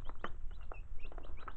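A hen clucks in short, repeated bursts over a steady low rumble, with a few brief chirps mixed in.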